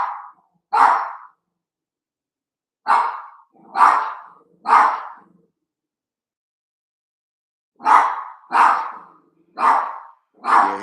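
A dog barks in two bursts, first a few sharp barks, then a pause, then four more in quick succession, loud and close in an otherwise quiet room with no talking.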